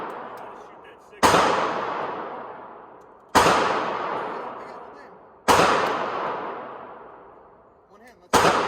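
A case-hardened 1911 pistol fires at an outdoor range in three loud, sharp shots roughly two seconds apart, each followed by a long ringing decay, with a fourth shot at the very end.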